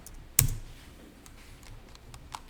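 A single sharp key press on a computer keyboard, the Tab key in accounting software, lands close and crisp near the start, followed by a few faint taps in a quiet room.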